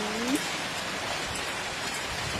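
Rain falling outside a rural Thai house near fish ponds, a steady, soft, even hiss of drops with no breaks, heard from indoors at low level.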